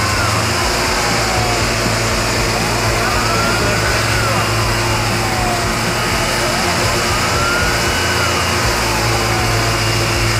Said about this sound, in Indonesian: Mobil pemadam kebakaran semprot air.